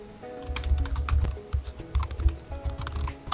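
Quick, uneven keystrokes clatter on a computer keyboard, close and fairly quiet, in short bursts with brief pauses between, while a business card is designed.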